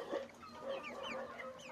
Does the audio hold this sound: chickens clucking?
yes